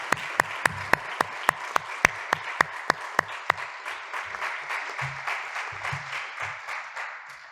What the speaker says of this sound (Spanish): un aplauso para empezar